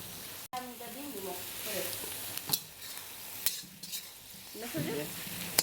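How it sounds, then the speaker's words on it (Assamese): Leafy leheti greens stirred with a turmeric spice mix in a pan over heat, giving a steady soft sizzle with a few scraping clinks of the spoon against the pan. "এতিয়া হিলাই লৈছোঁ।"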